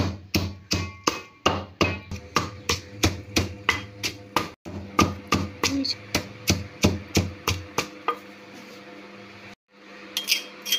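Dried garlic cloves pounded by hand, likely with a pestle, in a steady run of sharp, loud, evenly spaced thuds close up, about two per second, with a few brief pauses near the end.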